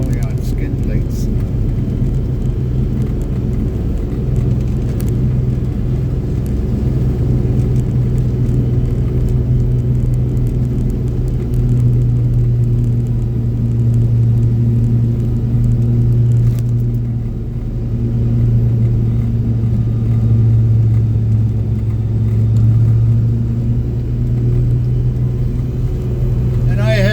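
A John Deere tractor fitted with a blower drives across an airfield, its engine giving a steady, loud, continuous rumble and whir close by for the whole stretch, with no break.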